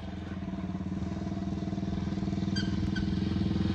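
A motorcycle passes nearby with a throbbing, rhythmic engine pulse that grows steadily louder over a few seconds, heard alone without talk.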